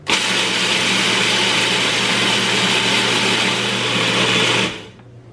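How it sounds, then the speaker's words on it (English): An old, worn food processor chopping oats whirs loudly and steadily for about four and a half seconds, a harsh high motor drone with a low hum beneath, then abruptly shuts off. "this food processor has seen lots of lots of better days"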